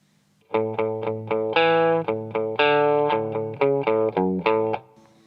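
A distorted electric guitar plays a short riff of about a dozen punchy notes in quick succession, clear and alone.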